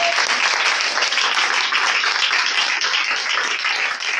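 Congregation at a church service applauding and cheering for the Lord, a dense, sustained roar of clapping and shouts that stays loud throughout.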